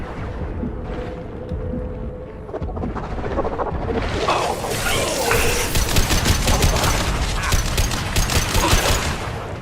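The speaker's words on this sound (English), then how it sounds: "Firing an impact shot! This should punch through their armor." Heavy weapon fire in the sci-fi shooter Mass Effect, an impact shot setting off a dense, rumbling barrage of blasts and explosions that swells louder midway and stays sustained to the end.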